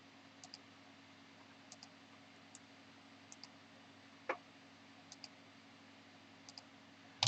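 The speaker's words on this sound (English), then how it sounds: "To complete it, I can hit F2 on the keyboard." Computer keyboard keys being pressed during map editing in ArcGIS software, a series of light, sparse clicks spread across the stretch over a steady background hum, with one slightly louder tap near the middle and another at the end.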